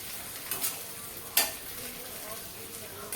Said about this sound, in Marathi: अशा प्रकारे भाजायचा कांदा.